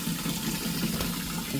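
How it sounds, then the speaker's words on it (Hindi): Tap water runs steadily into a container being filled at home, a continuous, close, even rush of pouring liquid with no speech. "और ये हमने पानी से भर दी।"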